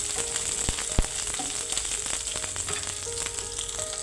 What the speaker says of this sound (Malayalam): ഇനി ഇതിലേക്ക് നടുവേ കീറി വെച്ചിരിക്കുന്ന പച്ചമുളക് ചേർത്തിട്ട് ഒന്നുകൂടി വഴറ്റുക